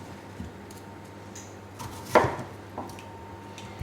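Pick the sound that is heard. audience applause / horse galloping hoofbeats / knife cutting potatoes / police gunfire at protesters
knife cutting potatoes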